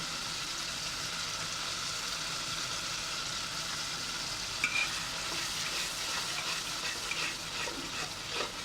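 A homemade special spice mix fries while being stirred and sautéed in a pan, making a steady, fairly soft hiss of sizzling that carries on evenly throughout, with a few faint stirring clicks near the end.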